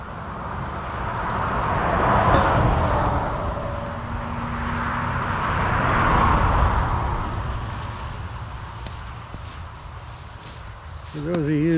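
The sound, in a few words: highway traffic noise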